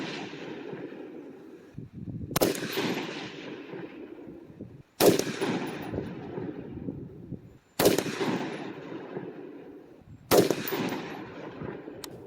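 Rifle fire at a shooting range: four sharp, loud shots spaced about two and a half seconds apart, each followed by a long rolling echo that decays into the next.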